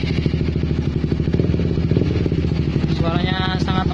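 A Honda CBR250RR K45 motorcycle idles through a Proliner TR1 Long exhaust without its dB killer, a loud, throbbing open note, its rapid pulsing rising slightly near the end as a voice briefly speaks.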